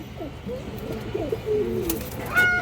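Pigeons coo softly at close range, with a few low, rounded calls over a quiet background and a brief higher chirp near the end.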